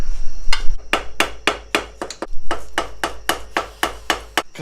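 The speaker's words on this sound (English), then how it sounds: "Because it just isn't fixed if you don't use a hammer." Sharp hammer blows ring out close by in an irregular series of about a dozen strikes, some quick doubles, loud and with no talking over them.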